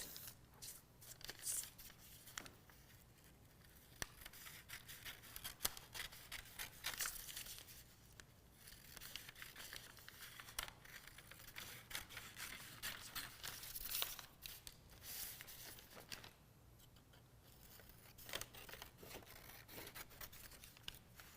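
Scissors snipping through paper for an art journal page, close and quiet, with repeated short cutting bursts and crinkling of the sheet, a few pauses between runs of cuts and no talking.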